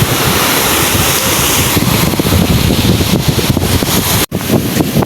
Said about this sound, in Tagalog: Kalmada na po yung dagat.